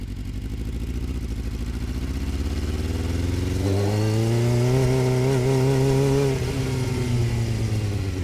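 A Suzuki GSXR600 motorcycle engine runs roughly and lumpily at close range, idling unevenly before revving up into a wavering, uneven drone and settling back down, with no voices.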